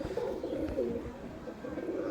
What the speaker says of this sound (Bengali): এগুলো সব রেজাল্টেড পায়রা দাদা, সব করাচ্ছি।